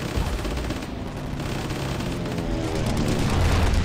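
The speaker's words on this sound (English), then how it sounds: "Oh, airstrike, son! Get wrecked." An airstrike in a World War II video game brings a loud, unbroken barrage of rattling gunfire and heavy explosive thuds that builds slightly toward the end.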